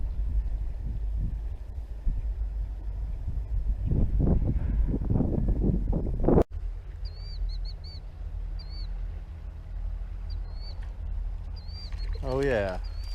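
Gusty wind buffets the microphone beside a Colorado trout creek, a rough rushing roar for several seconds that cuts off abruptly into a calmer scene with light bird chirps and a brief voice near the end.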